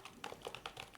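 Rapid typing on a computer keyboard while entering a command into a .NET package manager console, with quick uneven key clicks close by and no talking.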